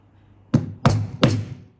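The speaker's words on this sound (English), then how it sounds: "the flat side is what you hit with your hammer" A hammer strikes the flat end of a rivet setter three times in an uneven rhythm, each a sharp, close, solid thunk, with quiet between blows.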